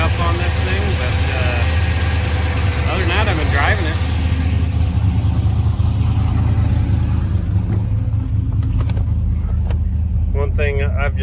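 A 1985 Chevrolet K20 Suburban with a swapped LS V8 idles loudly and steadily throughout, with someone talking over the constant engine rumble.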